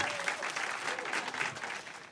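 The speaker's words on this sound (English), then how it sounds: "Can you guys clap it up for all the storytellers you just saw?" A live audience at a storytelling show breaks into steady, fairly close clapping that holds for a couple of seconds and tapers off at the end.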